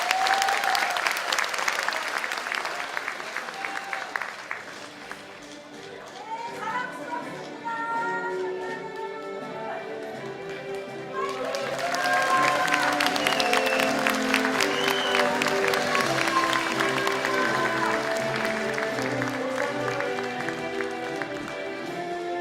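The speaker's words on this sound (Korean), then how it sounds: "함께 손을 올려 화답하는 이 청년들에게 큰 박수를 보내주시기 바랍니다" Crowd applause rises and falls twice over music-like tones and voices at a political party launch ceremony, swelling loudly again in the second half and continuing steadily.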